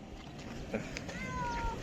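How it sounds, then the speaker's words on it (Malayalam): A cat gives a short meow close by, brief and soft against low background noise. "പൂച്ച നമ്മുടെ അടുത്തേക്ക് എത്തിയിട്ടുണ്ട്."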